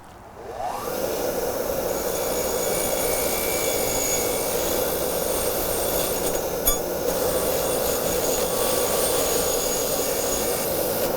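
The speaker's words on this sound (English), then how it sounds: "Now I'm going to clean off as much of this surface rust as possible on the wire wheel on the grinder." A bench grinder's wire wheel scrubs surface rust and road grime off a steel running board bracket, a steady loud whirring hiss that starts up within the first second and holds unbroken, with a brief scraping flare midway.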